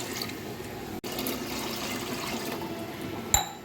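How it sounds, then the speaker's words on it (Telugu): Water pours steadily into a cooking pot for biryani rice, a continuous close splashing rush with one brief break and a sharper clink near the end. "సో మనం ఈ గ్లాస్తో 6 గ్లాసుల వాటర్ పోసుకుందాం."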